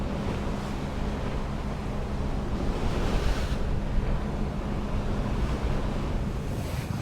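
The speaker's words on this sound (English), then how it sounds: "I just want to let you guys hear the ocean." Ocean waves and wind out at sea off the Baja coast form a constant broadband wash, with gusty wind buffeting the microphone and no voices.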